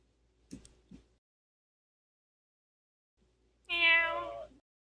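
A cat heard within a Genshin Impact game session gives one clear, drawn-out meow near the end, preceded by two soft ticking taps in otherwise quiet surroundings.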